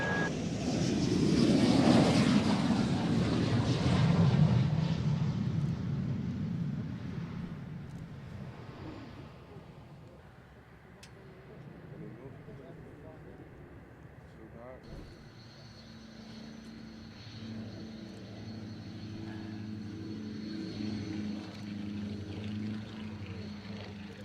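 A Tornado jet landing at the Waddington airshow: a loud roar swells and passes in the first seconds, then fades away, leaving quieter engine hum and faint radio chatter.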